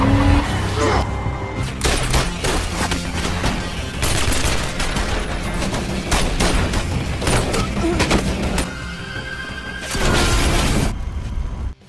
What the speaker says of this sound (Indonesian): diikuti baku tembak di antara mereka yang begitu epik